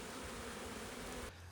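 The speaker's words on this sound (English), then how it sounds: "Now look at these bees." Honey bees at a hive buzz in a dense, steady drone, close and fairly faint, with no voices and the hum cutting off abruptly near the end.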